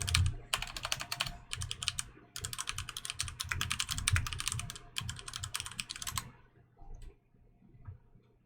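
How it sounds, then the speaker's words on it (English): Fast typing on a computer keyboard to enter a Google search, dense bursts of close key clicks in several runs separated by short pauses, tapering off at the end. "If you go to Google and type in a search for Electroneum"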